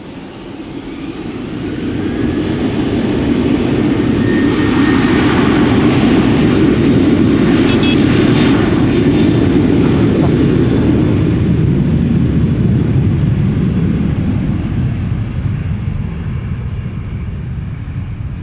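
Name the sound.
KLM Boeing 737-900 jet lining up for takeoff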